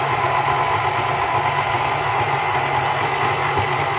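Electric mixer running on low speed while combining two aerated ice cream mixtures, a steady close whirring hum with no pauses.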